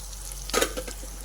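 Eggplant and dried prawn curry is stirred in a pan with a quick scrape and clink of the spoon. A soft, steady sizzle of frying runs underneath, and nobody speaks.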